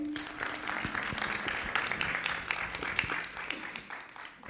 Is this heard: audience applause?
yes